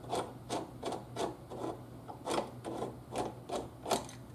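A crimping tool is unscrewed and backed out of a rock shield on a BMW 6 Series, giving a series of regular, close rasping ratchet clicks, about two per second, with no voices.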